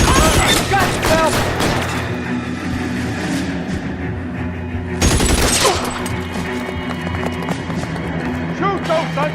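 Gunfire in the 2011 video game L.A. Noire, several sharp broadband bursts at the start and again around five seconds, mixed into a busy scene with shouting voices and other game sounds.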